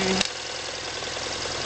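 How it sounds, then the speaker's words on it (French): A BMW F650GS motorcycle engine idles steadily close by, a continuous low rumble with a brief bump near the start. "Allez, on coupe le moteur."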